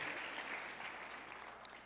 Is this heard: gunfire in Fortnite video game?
no